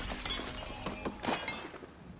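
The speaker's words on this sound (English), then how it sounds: "I'm smashing rocks" In Assassin's Creed Valhalla, rocks are smashed for iron ore, giving a short cluster of sharp cracking and shattering impacts that ring out briefly and then fade, with no talk.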